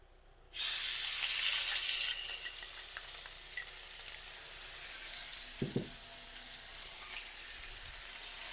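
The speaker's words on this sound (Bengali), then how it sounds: "তো তেলটা গরম হয়ে গিয়েছে, এখন পেঁয়াজটা ছেড়ে দেব।" Onion dropped into hot oil bursts into a loud sizzle that settles to a steady crackling fry, with a few soft stirring knocks.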